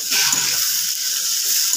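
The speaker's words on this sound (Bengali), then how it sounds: "লাল করে ভেজে নিব পেঁয়াজটা।" Chopped onions sizzle and fry in hot oil in a pan along with sugar, bay leaf and whole garam masala, giving a steady, close hiss with no talk over it.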